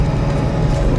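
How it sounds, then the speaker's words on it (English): Steady low engine drone of a coach bus heard from inside the cabin while riding, a continuous rumble with no talk over it. "you can hear only the engine of the coach that we're just in"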